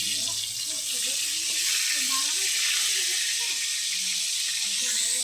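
Fish heads, silver carp, frying in hot oil in a pan, giving a steady, loud, hissing sizzle that runs unbroken from start to end, with faint clinks and a low hum underneath.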